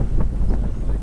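Steady wind buffeting the microphone while riding on top of a truck near Puerto Maldonado, Peru: a constant low rumbling roar with gusty swells, loud and unbroken for the whole moment.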